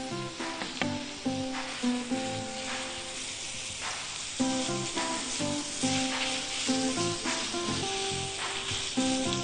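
Minced meat hits a hot frying pan and sizzles loudly, a crackling, spattering fry with clinks of a utensil stirring it, and no voices.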